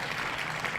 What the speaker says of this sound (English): I'll give him another round of applause for that one.